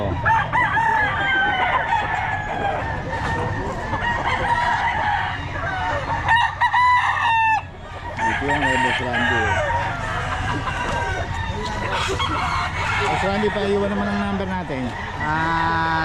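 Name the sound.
roosters, bullstag gamefowl, crowing at market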